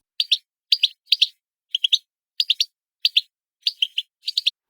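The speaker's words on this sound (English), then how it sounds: "a method you can use to synthesize a goldfinch sound" A goldfinch calls in a clean reference recording, eight short bursts of high, twittering chirps in doublets and triplets, evenly spaced and close, with silence between and no voices.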